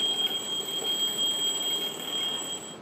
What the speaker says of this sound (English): It is an alarm clock.